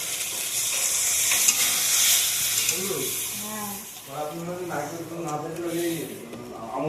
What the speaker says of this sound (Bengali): তো নারকেলের দুধটা আমি এর ভিতরে দিয়ে দেবো।